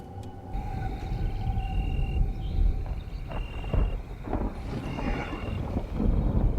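A dinosaur gives a drawn-out, tonal call at night, thin wavering notes drifting over a windy, rumbling background with scattered thuds, alone without speech.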